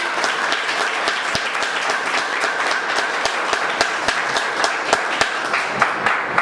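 A crowd at a business leaders' meeting claps in sustained, fairly loud applause, with a few sharper individual claps standing out over the steady wash.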